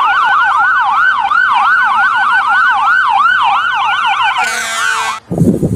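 A toy fire truck siren wails in a rapid, repeating up-and-down electronic pattern, loud and close, then changes tone before cutting off.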